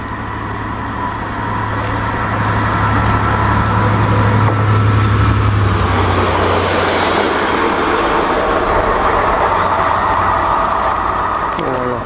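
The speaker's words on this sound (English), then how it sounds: "expecting a freight to come round the curve any moment now" A freight train rounds the curve at Long Buckby on a warm evening, making a loud, steady broadband rumble and roar that swells and holds throughout.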